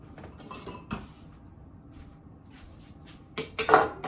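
Metal utensils clink and rattle in a home kitchen during cinnamon roll baking as a whisk is picked up, scattered light taps at first, then a louder cluster of bright clatter near the end.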